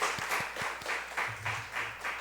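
Faint, scattered applause from a church congregation, a handful of light claps repeating in a loose rhythm for a couple of seconds.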